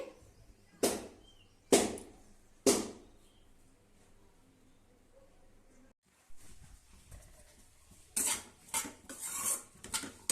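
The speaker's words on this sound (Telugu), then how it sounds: "బెండకాయ ఫ్రై కోసం బెండకాయలు వేయించుకుంటున్నా." Okra fries in a pan for an Indian-style okra fry, with three sharp metallic utensil clinks against the pan, then a pause, then a quicker cluster of scraping and clattering strokes, close and clear.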